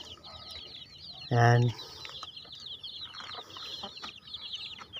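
Rhode Island Red and Black chickens on a farm, with one loud, close cluck standing out over faint background bird chirping; a person briefly speaks a single word.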